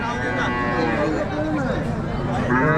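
Holstein Friesian calves low repeatedly at a crowded cattle market in Sangola, their moos loud and overlapping with continuous talk from people nearby.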